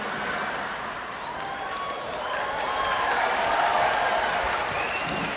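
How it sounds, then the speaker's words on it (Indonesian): Large crowd at an Islamic religious gathering in a cultural hall in Badung, Bali, applauding in a broad, steady wash that swells slightly midway, heard from a distance amid hall reverberation. "Ngono ya tepuk tangan."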